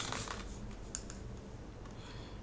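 Typing on a computer keyboard, a short burst of quick clicking keystrokes heard close and fairly quiet with no talking.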